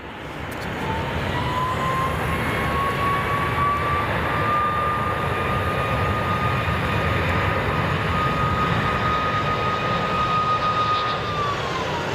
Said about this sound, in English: That the 777X we're hearing, folks.